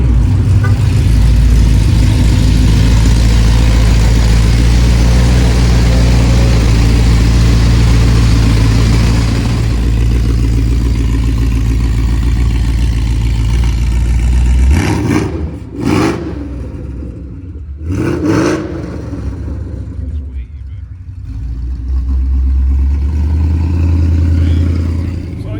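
A Ford Mustang 5.0 V8 fitted with new mufflers rumbles loudly up close, holding a deep steady drone before a couple of sharp revs and an uneven idle.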